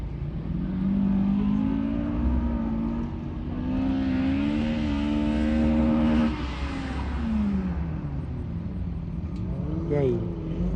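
A car revs hard and accelerates along a race track at an autocross and track sprint event, the engine note climbing through gears loudly and continuously, with voices talking over it.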